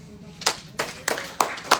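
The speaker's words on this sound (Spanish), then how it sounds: "Dele un aplauso al Señor" Clapping in a church service: five separate, sharp claps spaced about a third of a second apart over a faint background.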